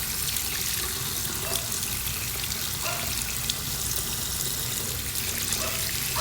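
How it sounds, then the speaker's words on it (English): Cold tap water running steadily into a sink, a continuous hissing splash that stays close and loud for the whole stretch, with no talking. "Should I just run some cold water on this thing?"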